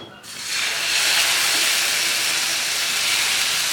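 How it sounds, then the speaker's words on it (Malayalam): Wheat dosa batter poured in a round onto a hot, oiled dosa pan sets off a loud, close hiss that swells within a fraction of a second and holds steady. "ആദ്യം ഒരു തവി മാവ് എടുത്തിട്ട് ദോശപ്പാൻ്റെ അറ്റം തുടങ്ങി ഇതുപോലെ റൗണ്ടിൽ ഇങ്ങനെ ഒഴിച്ചു കൊടുക്കാം"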